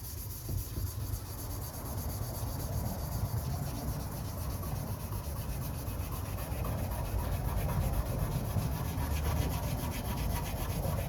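Paint being scuffed off a Harley motorcycle part, a steady close rough rubbing and abrasive scraping that continues without a break and with no talking.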